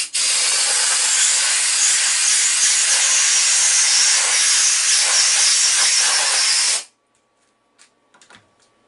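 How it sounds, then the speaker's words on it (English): A compressed-air hose blasts loudly and steadily through freshly machined threads in a metal mounting block, a broad hiss lasting about seven seconds before cutting off abruptly, followed by a few faint clicks and handling noises. "Get my air hose back. We can blow this thing out"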